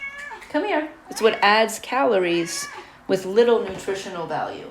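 A house cat meows repeatedly and close by, its calls mixing and overlapping with a person talking throughout.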